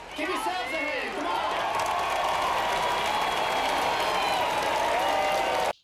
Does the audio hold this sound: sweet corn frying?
no